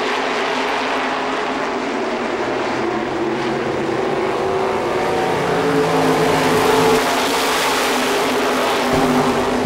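A pack of 350 supermodified race cars roars out of a turn at a short oval speedway during a 2004 heat, a loud, continuous, dense engine roar that swells slightly toward the middle.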